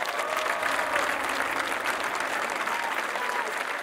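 Audience applause at the Catanzaro Calcio team presentation, a steady, fairly distant clapping from a crowd that holds at an even level throughout.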